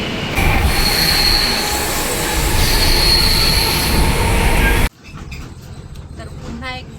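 A Mumbai AC local train runs with loud, continuous wheel squeal and rail rumble for about five seconds, then the sound cuts abruptly to a quieter, busy background.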